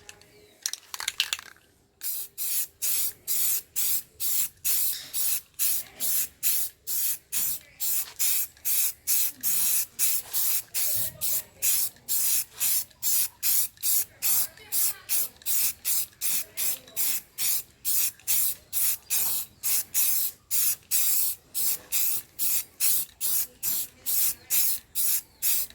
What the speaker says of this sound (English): Now I'm gonna give it another layer of primer.